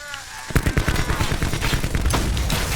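Rapid automatic gunfire in Call of Duty Black Ops 4 multiplayer, a loud burst of dense, irregular shots that starts abruptly after a short quiet lead-in and continues without pause as suppressing fire.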